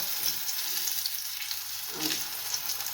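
Spinach leaves frying in hot oil in a pan give a steady, soft sizzle with faint crackles rising now and then, fairly quiet and close, with no voices.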